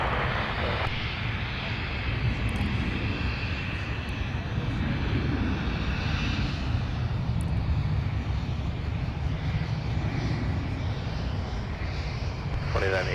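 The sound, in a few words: airliner taking off at MSP airport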